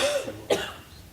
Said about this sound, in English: Sorry for my cold, my cough.